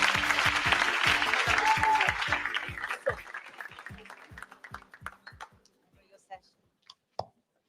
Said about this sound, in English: A big round of applause for Meera.